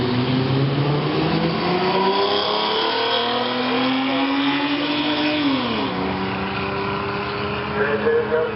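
A truck engine revs and pulls away at a drag racing event, a loud close engine climbing then dropping in pitch as it shifts, with an announcer talking over it.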